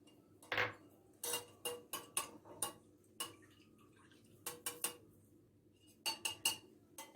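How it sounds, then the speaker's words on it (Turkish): Whisk clattering against a large bowl while sauce ingredients for a crispy leek börek are beaten, coming in quick bursts of sharp clicking strokes separated by short pauses, close and fairly quiet. "şimdi böreğimizin sosu için malzemelerimi büyük bir kase içerisinde çırpıyorum hepsini"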